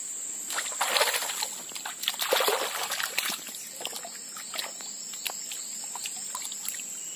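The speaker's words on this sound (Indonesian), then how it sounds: "bambunya kita cuci dulu" Bamboo is washed in forest water with light splashing, sloshing and trickling in irregular bursts, close by, over a steady high insect or cricket drone.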